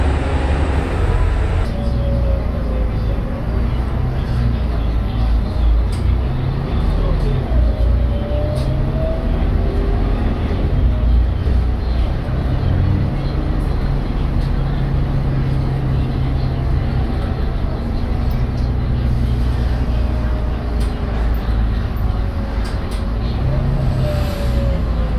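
A Volvo B12BLE bus with a Custom CB60 body, heard from inside while driving: a loud, steady engine and road rumble with a few faint rising whines as it changes speed.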